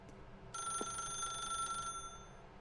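A telephone rings in The Stanley Parable video game, one continuous electronic bell trill starting abruptly and lasting over a second before cutting off, steady and moderately loud with no talk.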